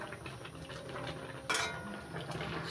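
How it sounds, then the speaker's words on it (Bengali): Jute greens and green chillies being stirred into dal in a cooking pot, quiet scraping and clinking of a spoon against metal with soft bubbling, and one brighter clatter midway, no talk. "এবার শাক আর কাঁচা লঙ্কা ভালো করে মিশিয়ে দিচ্ছি ডালের সঙ্গে।"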